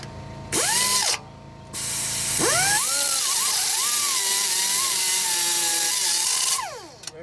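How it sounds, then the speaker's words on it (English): Grinder working on a seized, rounded starter bolt on a 2002 Ford F150 with the 4.2 engine, a loud whine spinning up in short bursts, then a longer sustained grind with wavering pitch before winding down. "Maybe grind on it just a hair more."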